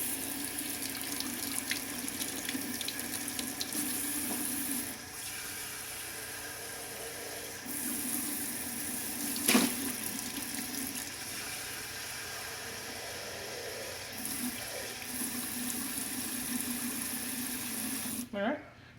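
Warm water runs steadily from a kitchen tap into a cup for baking dough, a continuous gentle splashing hiss that swells and eases over about nineteen seconds, with a sharp clink midway and faint background noise.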